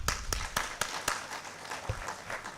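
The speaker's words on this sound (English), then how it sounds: "Clap hands." A handful of people at a students' climate innovation summit clap, a few distinct, evenly spaced claps that are faint and fade quickly.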